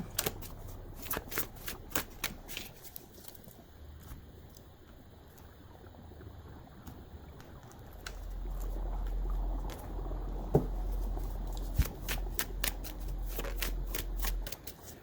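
Tarot cards are shuffled by hand in bursts of crisp riffling and flicking, stopping for a stretch in the middle before the shuffling resumes over a low rumbling background, with no talking.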